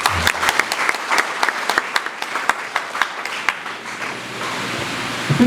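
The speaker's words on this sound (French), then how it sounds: "Tu peux applaudir pour elle." Scattered clapping from a church congregation at a canonical installation ceremony, individual sharp claps standing out in an uneven rhythm over a soft wash of background noise, thinning toward the end.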